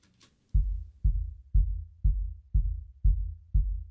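Heavily compressed electronic kick drum struck seven times at a steady, even pace, each hit a punchy thump with a long, booming sub-bass tail; a short tick precedes the first hit.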